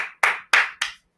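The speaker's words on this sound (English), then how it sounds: "we have to clap hands for Almiron" Three sharp, loud hand claps land in quick succession close by, followed by a fainter fourth clap, during a live Dortmund versus Newcastle football match watch-along.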